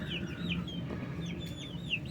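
Free-range backyard chickens, including a young five-month-old rooster, cluck and chirp, with a low steady hum of background noise throughout.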